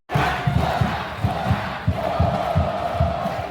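A football crowd applauding and celebrating after a home win in a final at the Marizão stadium, a loud, dense roar of cheering and shouting with rhythmic chanting pulses throughout.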